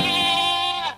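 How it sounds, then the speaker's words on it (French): A single goat bleats once, loud and close, a nasal wavering cry about a second long that cuts off abruptly. "Oh, tais-toi un peu, pauvre chèvre folle."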